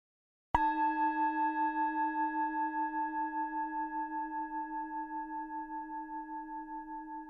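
A meditation gong is struck once after a moment of silence. Its deep, pure tone hangs on and slowly fades with a gentle pulsing shimmer, heard alone and close.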